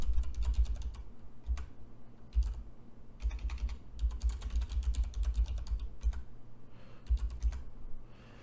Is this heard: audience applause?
no